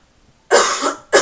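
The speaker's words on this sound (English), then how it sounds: "Excuse me, I'm going to cough." Two harsh coughs, the first longer, the second short, close and loud with silence before them.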